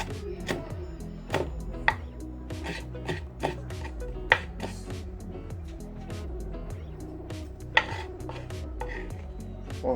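A knife chops fresh parsley on a cutting board with a fast run of close, repeated knocks, varying in force, over a low background hum.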